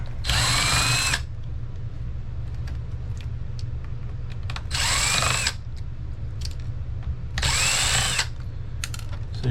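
A power drill backs screws out of a laptop being scrapped, three loud whirring bursts of about a second each, spaced a few seconds apart, with small clicks and handling noises between them over a low background hum.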